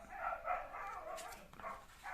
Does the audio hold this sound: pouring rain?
no